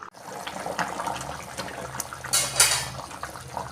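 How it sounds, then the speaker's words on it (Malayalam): Boiled potatoes being mashed in a stew pot with a metal utensil, giving close clinks and scraping knocks against the pot amid wet, sloshing liquid sounds, with a sharper metallic clatter partway through. "ഇനി നമുക്കിത് ഈ ഉരുളക്കിഴങ്ങേ ഒരു 3-4 ഒന്ന് സ്മാഷ് ആക്കുക."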